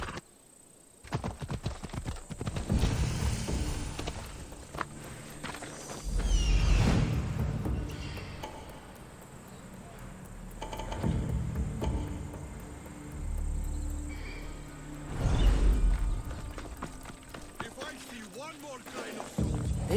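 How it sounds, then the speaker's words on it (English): Horse hooves clip-clop in the Assassin's Creed Odyssey video game, coming in repeated bursts of steady beats over a background of chirping insects, moderately loud and mixed with game effects. "No, horsey. Come here."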